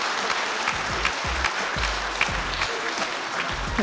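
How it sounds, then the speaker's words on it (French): An audience applauds steadily after an eloquence contest, a dense, even wash of many hands with soft low thumps, heard close and without speech. "on peut vraiment les applaudir très très fort"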